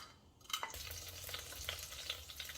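Spices hit heated oil in an iron pot for a samp and chicken dish, followed by a steady close sizzle with crackles and small pops.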